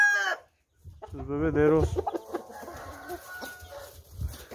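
Caged roosters cluck and call close by in a pen, loud bursts with short gaps, while someone speaks briefly over them.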